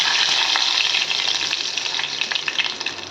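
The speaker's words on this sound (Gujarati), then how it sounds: "હવે નાખશું મીઠા લીમડાના પાન" Curry leaves drop into hot tempering oil with mustard seeds and cumin, giving a loud, continuous crackling sizzle that stays close and bright throughout, with no talk.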